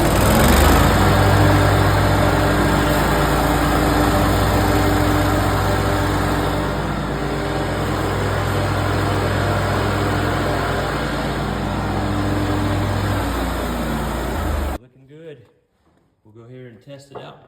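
A Ventrac HM560 engine runs loudly and steadily at close range on a test drive after a serpentine belt install, with a constant droning hum. It cuts off near the end, and a voice then speaks briefly.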